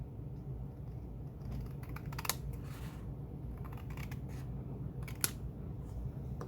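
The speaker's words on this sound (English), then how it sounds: "I use the scissors for the long cuts." Scissors make long cuts through paper for a Lake Freighter Minis model, giving quiet, intermittent snipping and rustling with a few sharper clicks and no talking.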